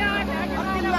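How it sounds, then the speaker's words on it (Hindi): A Kubota 5502 tractor engine runs steadily in second gear with no driver aboard, a loud, even, close mechanical drone with voices talking over it. "बिना ड्राइवर के ट्रैक्टर चल रहा दूसरे गियर में है भाई"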